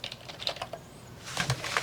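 Typing on a BOW K700 ergonomic computer keyboard, with scattered, uneven keystrokes clicking close up and a slightly busier burst near the end, with no voices.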